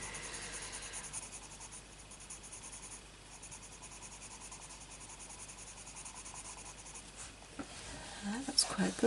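A pencil colours over chalk crayon on paper, a faint, continuous soft scratching with a low background hum, a brief louder rustle near the end.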